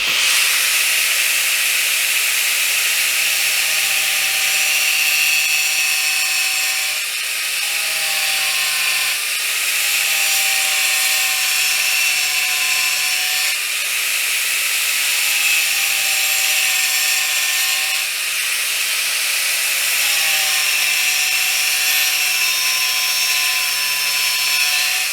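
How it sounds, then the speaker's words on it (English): A power grinder cuts water-damaged kitchen cabinet board, a loud continuous high whine and hiss with slight dips in pitch as the blade loads, running unbroken with no talking. "the easiest way to cut those to get it looking nice and right and sharp is by using a grinder"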